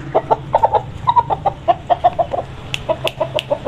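An Aseel rooster clucks in a quick series of short, sharp calls, close by, with a steady low hum underneath.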